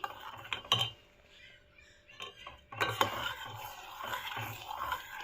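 Milk and cornflour mixture stirred in a pan over a low flame, with soft scraping and occasional clinks of a spoon against the pan in an irregular rhythm, close and fairly quiet.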